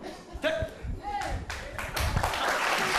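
Audience applause breaking out at a French live show, claps building over a few seconds and mixing with talk and crowd noise.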